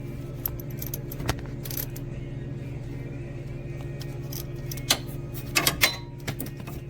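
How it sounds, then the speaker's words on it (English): A 1/4 inch drive ratchet clicks at the side of a 2005 Mazda3 engine while loosening a 10mm bolt, with soft steady ticking over a low hum and a few sharper metallic clicks near the end. "I have my 10mm 1/4 inch drive ratchet. I'm going to remove it."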